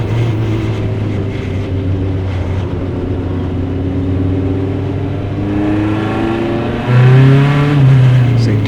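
An SCCA race car engine drones steadily at close range during a qualifying race at Mid-Ohio, its pitch rising sharply near the end as it accelerates, with faint voices underneath.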